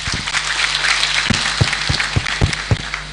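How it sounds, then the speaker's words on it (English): Audience at a graduation ceremony breaks into loud, sustained applause, a dense wash of many hands clapping with some louder individual claps standing out near the front. "A round of applause for him."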